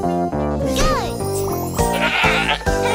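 A goat bleats repeatedly in short, wavering calls, loud and close, alongside a children's cartoon setting where the animal is named over and over.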